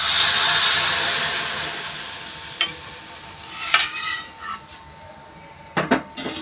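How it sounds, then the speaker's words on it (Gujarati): Vegetable stock is poured into a hot pot of mixed vegetable soup, setting off a loud hissing sizzle that fades gradually, followed by a few sharp clinks and scrapes of a spoon against the pot. "હવે આપણે આમાં વેજીટેબલ સ્ટોક નાખીશું."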